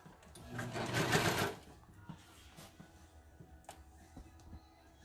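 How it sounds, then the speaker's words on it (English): Sewing machine stitching a seam on leggings, a close whirring run for about a second, then quiet handling clicks and fabric shuffling. "And now I'm going to line it up to sew a second seam on this side."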